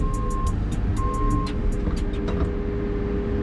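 A logging truck buzzes through a muddy hole at a wood yard, its engine a loud steady rumble with repeated sharp clicks and rattles and a brief high tone.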